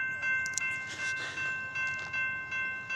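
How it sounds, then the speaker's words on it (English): A northbound Amtrak Talgo passenger train passes close by with a steady horn tone held throughout, rumbling over rhythmic wheel clatter and bursts of rail noise. "it seems to be the talgo train"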